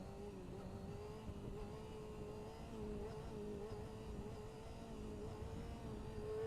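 A stock 600 cc motorcycle engine holds a steady, fairly quiet drone at moderate revs with a constant tone throughout, slightly distant, no voices.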